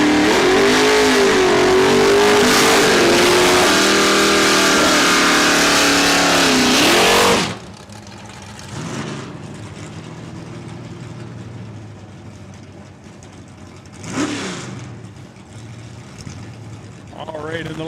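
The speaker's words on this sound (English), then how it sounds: "Barbara Stetner runs a 1303 at 108 in the Camaro." A Chevrolet Camaro drag car accelerates hard down the strip at Saskatchewan International Raceway, its loud rising engine roar filling the first seven seconds and then cutting off, followed by quieter track ambience with brief engine bursts.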